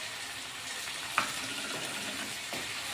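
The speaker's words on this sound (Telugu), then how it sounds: "ఈ వేయించిన దానిలో పెరుగు వేద్దాం." Yogurt goes into a fried mixture for veg biryani, and a soft, steady sizzle rises from the pan with one brief clink in the middle.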